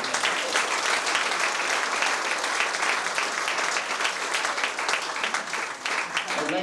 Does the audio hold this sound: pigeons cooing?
no